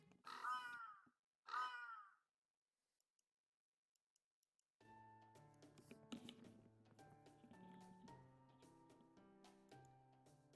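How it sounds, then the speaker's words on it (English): Two loud, close crow caws ring out in Fate/Grand Order's Götterdämmerung lostbelt, separated by a short pause, followed by silence and then soft game music. "Those aren't normal birds, are they?"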